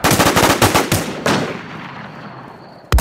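Rapid bursts of sniper and automatic gunfire in a video game ring out loud and close, a dense string of shots followed by a fading tail and one final sharp report.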